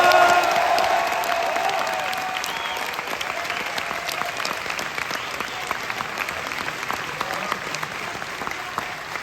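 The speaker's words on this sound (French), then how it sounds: "Avant même de les accueillir, vous pouvez déjà les applaudir." Audience at a fantasy film festival screening hall applauding steadily, a dense wash of clapping that holds for several seconds and gradually thins, with faint crowd murmur.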